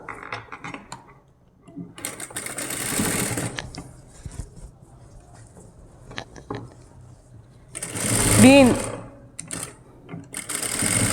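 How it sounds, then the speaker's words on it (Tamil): A sewing machine stitches canvas cloth while making an umbrella gown, running in a few short bursts between quieter pauses, with one louder, denser run near the end. "திருப்பிட்டு மேலே ஒரு படிமான தையல் போட்டு எடுத்துக்கலாம்"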